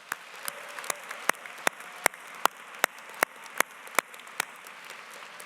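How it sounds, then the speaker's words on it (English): A graduation convocation audience applauds the graduates with sharp, evenly spaced claps that stand out distinctly over a softer wash of background clapping. "Let's give everybody a big round of applause."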